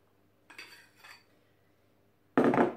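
Utensil working egg whites into a chocolate and egg yolk mixture in a bowl for chocolate caramel mousse: a few soft scraping strokes, then a louder clattering scrape against the bowl near the end.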